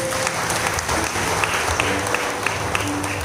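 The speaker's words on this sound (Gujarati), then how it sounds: "તાળી પાડી પ્રભુને મહિમા." Church congregation at a youth gathering clapping hands together in a dense, steady patter of applause, with occasional sharper claps standing out and a faint voice beneath.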